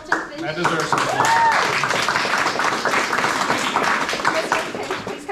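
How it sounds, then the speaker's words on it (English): Audience applause at a retirement celebration, a dense, steady wash of clapping sustained for several seconds, with voices mixed into it. "That deserves some applause."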